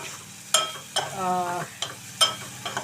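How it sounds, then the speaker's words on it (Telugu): Dried prawns frying in oil in a pan, a steady sizzle broken by several clear spoon scrapes and knocks against the metal as the pieces are turned. "రొయ్యలు అయితే చక్కగా వేగేయండి చూసారా చక్కగా ఎర్రగా రొయ్యలు అయితే వేయాయి"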